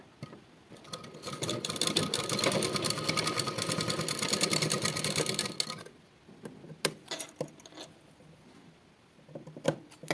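A sewing machine stitches neck piping crosswise during a tailoring lesson. It runs steadily and loudly for about five seconds, then stops, and scattered close clicks and handling noises follow.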